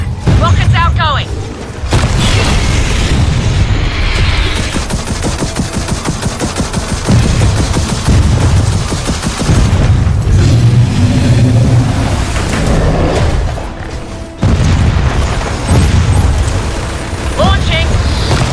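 Gears of War 4 combat: rockets fired and exploding in repeated heavy booms and rumbling blasts over continuous loud battle noise, with voices talking throughout.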